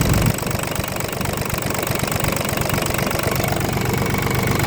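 ISEKI LandHope 257 tractor diesel engine idling with a cold engine, a loud, steady, close knocking rumble with even vibration throughout and no talk.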